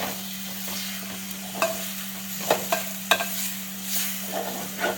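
A steady sizzle of chopped tomatoes frying in a pan for chicken Chettinad gravy, with scattered scraping and clinking as a utensil stirs through; constant low hum underneath.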